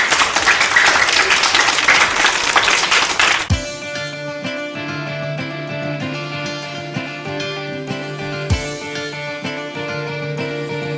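Audience clapping at an Independence Day celebration program welcomes a school performing group, a loud burst of applause for a few seconds that cuts off abruptly as steady instrumental music takes over.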